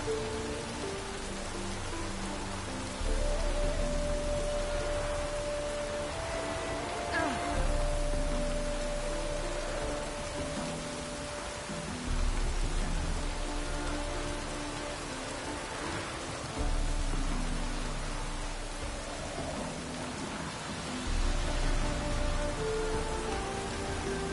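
Steady rain falls across a video game scene, a dense even hiss that continues unbroken for the whole stretch, with faint tonal game sounds drifting underneath.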